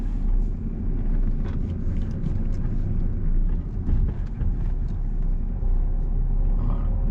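A car engine runs at a steady low drone in second gear during a driving lesson, with continuous road rumble and no talk over it.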